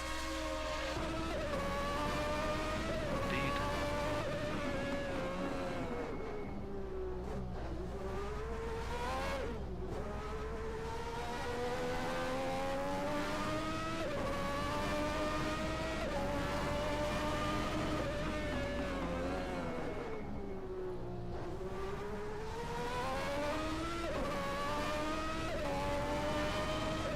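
Formula One cars from 1991 race at the San Marino Grand Prix, engines screaming and rising and falling in pitch as they pass, loud and continuous throughout.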